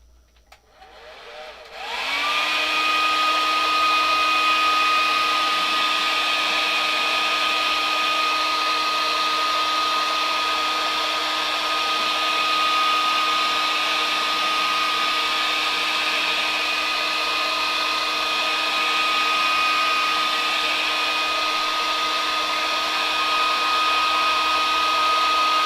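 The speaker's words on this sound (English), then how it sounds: "I'm about to use the ultimate hairdryer" A hair dryer blows steadily to dry paint on model rocks for a small O scale layout, starting after a brief quiet moment and then running loud and close as a continuous whir without talk.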